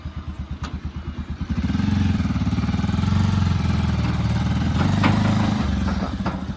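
A tractor engine runs as the machine moves forward, a loud close diesel chug that starts as distinct rapid thumps and then rises into a steady throbbing drone, with no speech over it.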